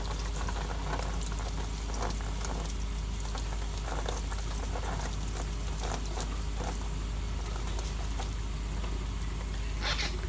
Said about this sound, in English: from here I can go under the faucet